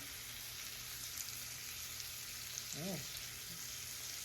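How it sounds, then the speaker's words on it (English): Broccoli sautés in a pan for a home hibachi meal, giving a faint, even sizzle, with a brief voice-like sound toward the end. "And I'm gonna go in with my broccoli. And allow it to saute."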